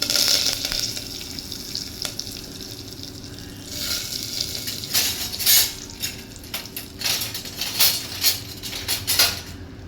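Curry leaves crackle and sizzle in hot oil, a steady frying hiss with sharp spitting pops bursting out in clusters over several seconds, close by and with no voices.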